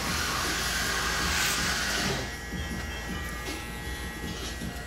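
Electric hair clipper trimming a light fade and beard at a barbershop, a steady close buzzing that is louder for the first two seconds and then continues slightly softer.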